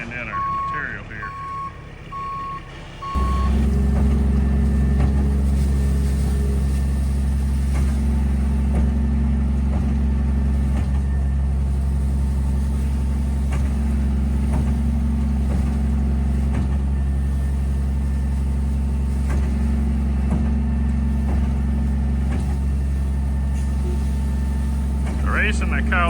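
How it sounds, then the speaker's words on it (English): A walking-floor truck unloads pine mulch (fine pine nuggets) with its engine idling steadily and close; a reversing beeper sounds briefly at the start, and a voice speaks over the constant low rumble. "The reason they call this a walking floor, it has a live floor in it, so you can see the truck's not even moving and the material's coming right out"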